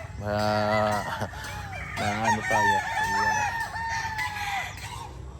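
Roosters crow in long drawn-out calls, mixed with hen clucking, on a chicken farm. Several birds sound close and fairly loud while someone speaks briefly in between.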